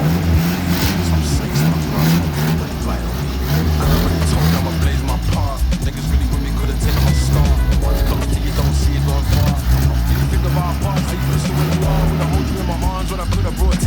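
A budget car fitted with a drop kit drives on its first test run after a jump start, with a loud, continuous engine drone and pulsing low rumble throughout while people talk inside the car.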